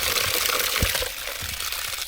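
Water is poured outdoors for a dog to drink during a walk to a 12th of July parade in Rossnowlagh, County Donegal, a steady splashing hiss with a few soft low thumps, close by.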